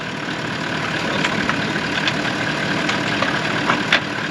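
A four-wheel-drive vehicle idles in desert sand in Victoria's Little Desert, a steady low engine rumble that is loud and close, with a few faint knocks over the drone.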